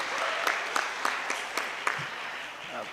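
An audience at a youth summit plenary session gives a warm round of applause for the panelists, a full even clapping from many hands with a few sharper claps standing out, fading slightly at the end.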